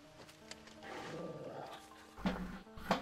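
A dog in Final Fantasy XVI growling and snarling, a low rumbling vocalization rising into a couple of louder rough bursts near the end, fairly faint overall.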